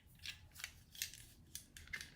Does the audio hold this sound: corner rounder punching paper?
yes